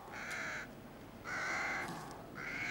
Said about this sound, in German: Sie haben nur Krähen?